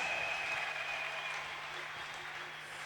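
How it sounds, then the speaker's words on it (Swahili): Church congregation clapping for Jesus, a dense wash of applause that starts full and gradually softens over a few seconds, with no speech over it. "Pigie Yesu makofi mazuri."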